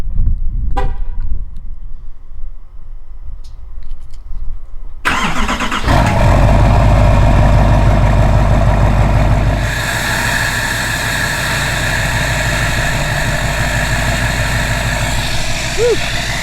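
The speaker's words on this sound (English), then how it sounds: "get the truck started, get this thing fired up" A diesel truck engine cold-starts, cranking and firing up after a quiet stretch, then settles into a loud, steady rumbling idle close by.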